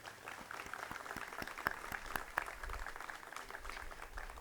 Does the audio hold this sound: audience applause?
yes